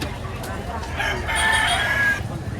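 Chickens cluck and cackle nearby over a busy background murmur at a chicken market in Lipa, Batangas, with a brief louder squawk in the middle.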